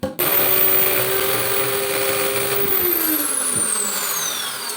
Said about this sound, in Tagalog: Butasan na natin gamit yung barena.